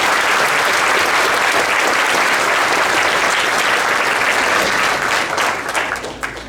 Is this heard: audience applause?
yes